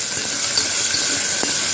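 Chopped tomatoes sautéing with salt in a hot pan for a mutton dish make a loud, steady close hiss that holds throughout, with one brief faint tap near the end.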